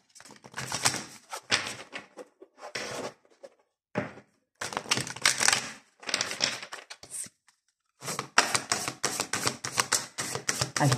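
Tarot cards being shuffled and drawn, with bursts of papery riffling and slapping card sounds separated by short pauses and crisp flicks, close and fairly loud with no talking.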